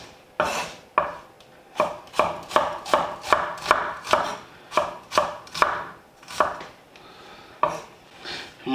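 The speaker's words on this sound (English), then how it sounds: "So I'm just going to go ahead and cut these into a basic julienne." White onion sliced lengthwise into julienne with a knife on a cutting board: about a dozen crisp, evenly paced chops, close and loud, with brief pauses, no talk.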